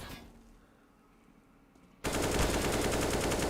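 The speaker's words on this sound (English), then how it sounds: "Dutchboy not landing the bullets that he should" Automatic gunfire in a Counter-Strike match from an ESEA Open esports game erupts loud and sustained after a quieter stretch of faint background, a dense rapid burst continuing to the end.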